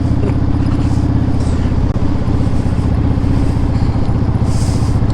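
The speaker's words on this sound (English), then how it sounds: "Bike is moving." A motorcycle rides through Providence at night, its engine droning steadily and close for the whole stretch, with a constant low rumble and road noise and no voices.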